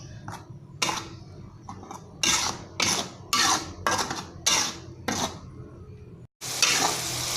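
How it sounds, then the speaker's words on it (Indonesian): Spices sautéing in a pan for goat curry, the sizzle broken by repeated rhythmic scraping strokes of a spatula against the metal, close and fairly loud, with a short pause before a final burst. "Kita tumis sampai harum"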